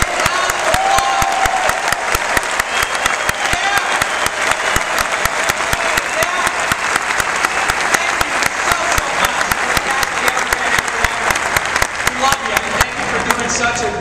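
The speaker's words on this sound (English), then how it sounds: "I want to give them a big round of applause." A large crowd claps continuously in a dense, sustained round of applause that stays loud and even throughout.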